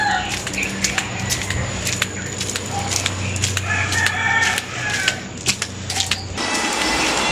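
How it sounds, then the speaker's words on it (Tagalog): A rooster crows loudly and close by beside a highway on a smoggy, foggy morning, with several clucks and sharp clicking sounds around the calls and steady background noise underneath. "May manok. Gulat ako sa manok."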